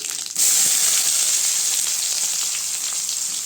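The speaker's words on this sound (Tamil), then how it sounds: "கருவேப்பிலை எல்லாம் சேர்த்துட்டு கொஞ்சம் வதக்கி விட்டுக்கலாங்க வெங்காயம் நல்லா வதங்கணும்" Onion, dried red chilli and curry leaves sauté with cumin in a hot oiled pan, producing a loud, steady, close sizzle that flares up after a brief quieter moment and keeps hissing without any talk.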